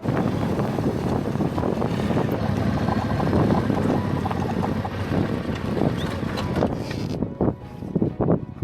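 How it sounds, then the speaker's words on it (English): Strong gusts of wind roar across open ground in Torres del Paine National Park, a loud, continuous rushing buffeting the microphone, then easing into choppier bursts near the end. "Look at how the wind is blowing."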